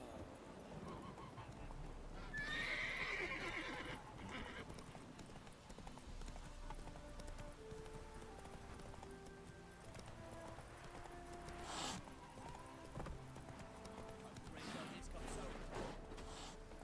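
Horse in The Witcher 3, with rhythmic hoof clip-clops on the ground and a short, high neigh early on, fairly quiet against a soft ambient background.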